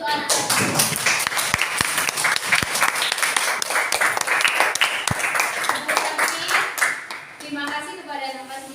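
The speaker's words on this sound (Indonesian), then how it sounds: "Tepuk tangan dulu untuk anak kelas 5." A class of fifth-grade children claps together in a dense, steady burst of applause with some sharper taps, loud and close, fading near the end as a voice starts speaking.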